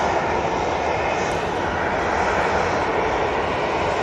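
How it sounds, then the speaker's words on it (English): An EasyJet airliner departs Manchester Airport bound for Basel, a steady, loud broadband engine roar that holds evenly throughout with no voices over it. "It's this EasyJet, I'm thinking. It's off to Basel."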